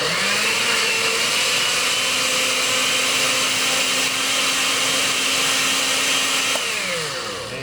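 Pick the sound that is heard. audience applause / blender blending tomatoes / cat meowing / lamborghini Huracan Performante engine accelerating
blender blending tomatoes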